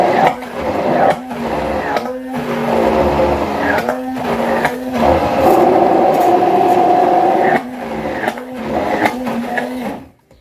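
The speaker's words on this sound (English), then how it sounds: "Okay, now I transfer from my food processor to my hand blender." A hand blender whirring through plantain fufu, its motor humming loudly in long runs broken by brief pauses and restarts, close to the listener with no talking.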